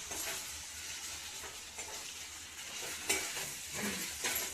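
Potatoes, green chillies and cumin frying in hot oil for sabudana, a steady close sizzle with occasional stirring scrapes throughout.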